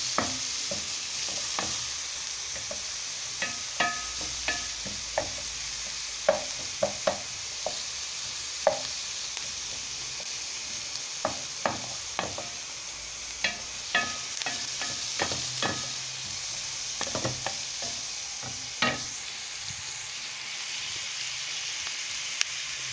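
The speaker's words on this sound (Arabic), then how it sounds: "نزلنا بالبصل كده مع السمنه البلدي اهي، وقرنين فلفل اخضر نشوح فيهم كده كويس" Onions and a couple of green chilies sautéing in country ghee for stuffed pigeon, a constant close hiss of frying broken by scattered sharp clicks and scrapes of a utensil in the pan, no talking.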